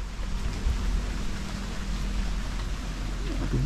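Rain pours steadily over a vegetable farm plot, a dense, continuous hiss with occasional low rumbles.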